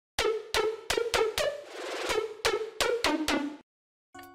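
Synth stabs with a very high vibrato rate drenched in reverb pulse in a rapid, rhythmic pattern, bright and close, then cut off briefly before a final short burst.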